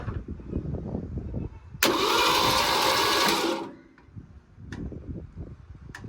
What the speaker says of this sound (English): I am gonna crank it over with a starter before I go any farther to make sure it works and everything spins.